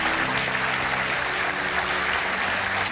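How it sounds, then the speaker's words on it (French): An audience claps loudly and continuously to welcome a costumed archbishop of Paris at a live stage show, dense, even applause filling the whole stretch without voices. "On l'applaudit très très fort."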